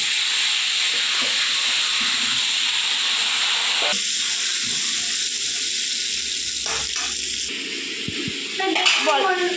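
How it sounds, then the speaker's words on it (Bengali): Potatoes fry in hot oil for chicken biryani in a small home kitchen, a steady loud hiss and sizzle running throughout, shifting slightly midway, with a few faint clinks near the end. "আলুগুলো ভেজে নেব।"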